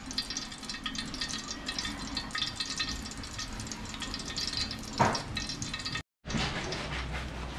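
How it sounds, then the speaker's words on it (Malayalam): Cashew nuts sizzle steadily in hot ghee in a pan, a dense, continuous frying crackle with one sharper stir or clatter near the end and a brief drop-out just after. "നെയ്യ് ഒന്ന് ചൂടായ ശേഷം നമുക്ക് എന്നാ ആദ്യം തന്നെ എന്നാ അണ്ടിപ്പരിപ്പും ഇതൊന്ന് വറുത്ത് മാറ്റാം"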